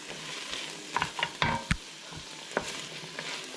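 Onions for Hungarian goulash cook in a pan, a soft low sizzle broken by a few sharp scrapes and clatters of stirring, close and quiet with no talking.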